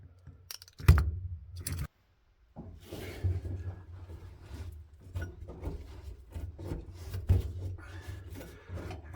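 Old material being scraped and peeled off a Ford DentSide truck cab, giving close, uneven scratchy rasping strokes with a sharp knock near the start and a brief pause in between.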